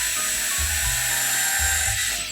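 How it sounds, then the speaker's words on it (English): A power drill drives screws into heavy wooden 2x4s being fixed to wall studs for a fireplace mantel surround, giving short loud whirring bursts with brief pauses between them. "make sure to use screw nails to drill the 2x4s into the studs"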